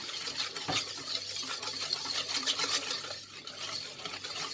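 Water being stirred into homemade kaffir lime liquid soap, a soft continuous sloshing and swirling with faint scraping against a container, steady and close throughout with no talking.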